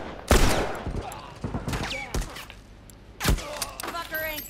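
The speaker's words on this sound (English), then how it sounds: "Fucking turret!" Automated turret gunfire in The Last of Us Remastered: a few sharp, loud shots with long echoing tails crack out in irregular bursts over a busy background of other effects.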